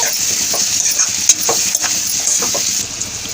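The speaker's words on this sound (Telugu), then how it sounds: "ఇప్పుడు మొత్తం కలుపుకోవాలి." A spatula scrapes and stirs through a thick capsicum masala curry mixture in a pan over a constant sizzling hiss, with soft irregular knocks.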